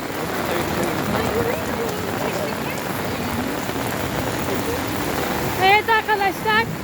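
Heavy rain pours steadily onto surfaces during flooding in Antakya, a dense continuous hiss throughout, with a few brief bird chirps near the end.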